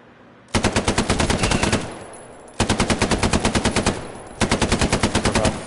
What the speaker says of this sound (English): Dude, machine gun, you can just lay it down.